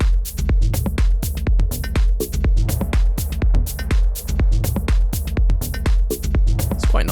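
A short techno loop pounds with a steady kick drum and crisp hi-hats, repeating its tight electronic pattern several times at a driving tempo.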